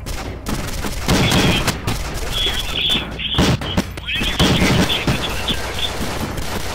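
Gunshots in the zombie shooter game SMOD Outbreak, repeated sharp firing and impacts over constant loud background noise, with a high tone running through the middle and someone talking over it.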